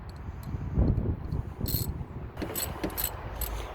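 Close mechanical clicking and creaking as a wrench loosens the alternator belt tensioner bolt on a 1996 Honda Accord with an F22B1 engine, uneven bursts of ratcheting over a low rumbling background, with no talking.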